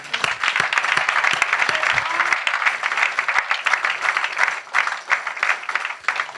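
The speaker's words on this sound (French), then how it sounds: "Applaudissons le Seigneur." An Easter Sunday church congregation applauds, with loud, dense, continuous clapping from many hands that swells and wavers over several seconds.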